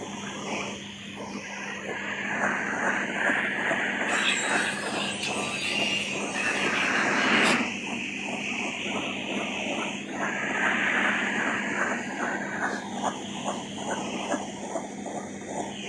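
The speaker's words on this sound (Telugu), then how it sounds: "హెలికాప్టర్ ఏమో పైకి వెళ్తూ ఉంటుంది." Video game helicopter rising: constant engine drone with a rapid chopping rotor pulse, loud and steady throughout, with a brief whoosh partway through.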